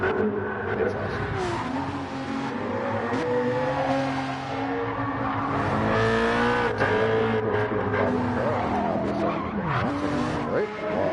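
BMW Z4 sports car driving hard, tires squealing and skidding in long wavering whines over a loud, continuous engine roar.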